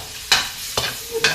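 Chicken liver fries in a pan without oil while a utensil stirs it, giving three sharp scraping strokes over a steady close sizzle.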